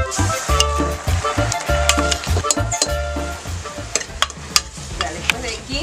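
Sofrito for hen tonga sizzles steadily in a pan while a spoon stirs it in regular scraping strokes, with a few sharp clinks of utensil on metal near the end.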